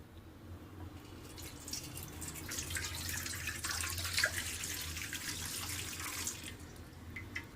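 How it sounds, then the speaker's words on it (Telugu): Milk being poured into a wide kadai pan for a fruit salad recipe, a soft, steady liquid trickle and splash lasting several seconds, quiet and close with a low background hum. "పెట్టుకున్న తర్వాత మనం పాలు పోసుకుందాం."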